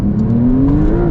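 Rear-mounted engine of a Porsche 911 Turbo S (992) revving steadily, a loud continuous drone whose pitch climbs gradually throughout, heard alone without voices.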